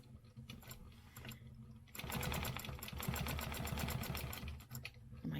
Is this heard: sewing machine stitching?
yes